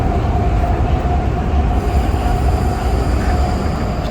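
A Prague metro train rumbles loudly and steadily, with a continuous low roar and faint high squeal from the wheels on the track.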